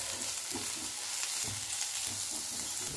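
Onion fries in a pan while momos are being made, a soft, continuous sizzle with faint rhythmic stirring scrapes underneath.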